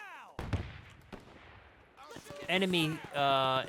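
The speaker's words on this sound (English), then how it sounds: "I hear shooting" Distant gunshots in the WW2 strategy game Men of War 2, a few sharp isolated cracks early on, followed by tonal game sounds and someone talking.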